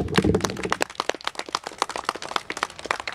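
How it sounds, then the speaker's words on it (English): Scattered applause from a small crowd at a ribbon cutting for a recovery house opening, quick irregular claps from many hands, fairly close and moderate, fading slightly toward the end. "really just a round of applause for this Ryse Recovery House coming to the community"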